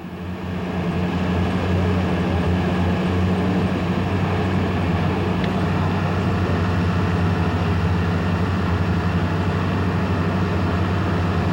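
A skyline logging winch hauls the Sky Car and its load of logs back up a mountainside, a loud, continuous engine drone with a steady low hum that never lets up.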